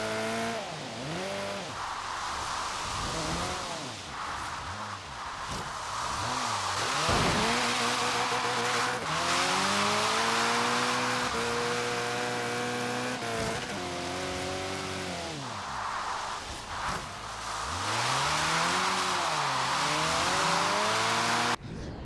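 Car drifting in the racing video game Forza Horizon 3, with a continuous loud engine whine rising and falling through gear changes and revs, mixed with sustained tire squeal throughout, no talking.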